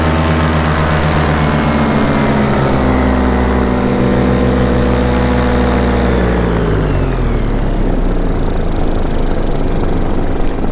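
Rebuilt Atom 80 engine running during break-in, a loud, steady droning hum with strong harmonics that shift downward as the throttle changes, heard alone without talk.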